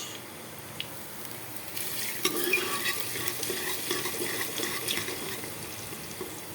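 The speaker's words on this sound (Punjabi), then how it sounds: "ਆ ਤੇਲ ਮੈਂ ਗਰਮ ਕਰ ਲਿਆ ਚੰਗੀ ਤਰ੍ਹਾਂ ਨਾਲ ਤੇ ਇਹਦੇ ਵਿੱਚ ਆਪਾਂ ਹੁਣ ਪਾਵਾਂਗੇ ਲਸਣ" Garlic goes into hot oil for an aloo palak sabzi and sizzles steadily, with stirring and occasional scraping in the pan.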